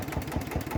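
A tractor engine running at a steady idle, its low rhythmic chug pulsing evenly and close by, with no talk over it.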